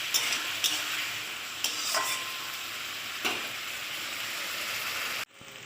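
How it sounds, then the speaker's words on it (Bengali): Rohu fish and taro curry stir-fries in a pan after water is added, a steady sizzle broken by a few soft scrapes of the spatula, close and alone until it cuts off near the end. "এবার আমি জল দিয়ে কষিয়ে নেব একটু।"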